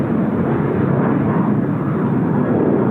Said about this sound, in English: the EasterJet 737-800 now just departing